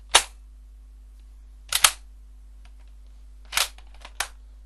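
A rifle bolt is worked by hand through several cycles, giving sharp metallic clacks near 0.2, 1.8, 3.6 and 4.3 seconds, close and distinct against a quiet background with no talking.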